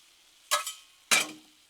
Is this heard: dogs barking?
no